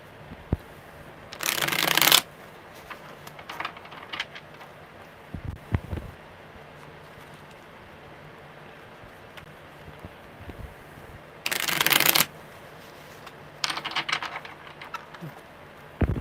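Tarot cards are shuffled in two brisk riffling bursts of about a second each, with fainter card handling and a few soft taps between them in a quiet room.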